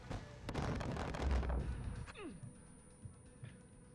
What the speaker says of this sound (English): I'm gonna run directly into a mortar